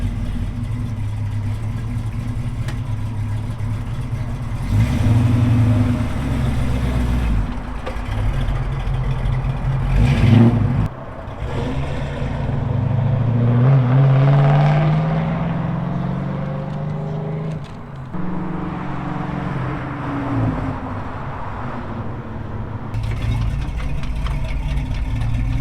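A Firebird car cruising on a highway after an alignment, with a steady engine and road drone throughout and a few brief swells in level, no talking.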